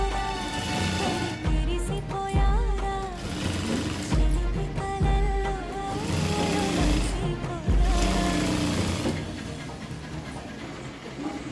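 A sewing machine stitches a blouse piping strip, running in a loud, fast, rattling run with several short pauses and restarts.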